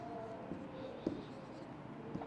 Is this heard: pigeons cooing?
no